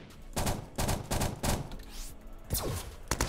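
Enemy gunfire in the video game Starbound: a quick series of sharp, loud shots in uneven clusters, about half a dozen blasts over a few seconds, with no talking.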